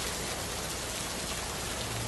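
Light rain patters steadily, a soft continuous hiss of drops on surfaces with no talking over it.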